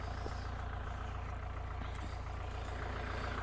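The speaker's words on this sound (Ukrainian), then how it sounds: "Тракторець чудово справляється." A Scout 404C tractor engine drones continuously at low pitch during autumn ploughing with a plough, a steady heavy idling rumble with no talking over it.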